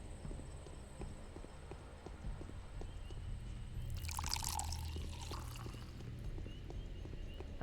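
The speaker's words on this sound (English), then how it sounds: "That water sounds so bubbly." Bubbling spring water in the dark game Pathologic, a soft, steady gurgle that runs quietly throughout, joined by a brief splashing pour partway through over faint footstep-like taps.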